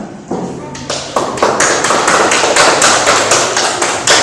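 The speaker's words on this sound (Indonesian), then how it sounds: "Oke, tepuk tangan untuk saudara kita." A classroom group claps for presenters during an Arabic-language teaching session, loud and close, starting with a few separate claps that quickly swell into dense, continuous applause held for several seconds.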